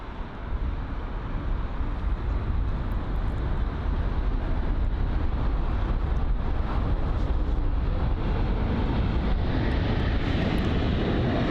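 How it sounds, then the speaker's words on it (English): An SAS Airbus A320neo arriving from Oslo at London Heathrow gives a loud, sustained broadband jet roar that holds steady throughout, with some wind rumble. "The Scandinavian, or SAS A320neo, that's arriving from Oslo"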